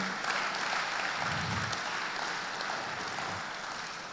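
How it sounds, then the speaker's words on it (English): An opening ceremony crowd at a bar association conference claps for the chairman returning to his seat, a steady, full round of applause with a faint low murmur partway through. "Please clap for my chairman as he returns to his seat."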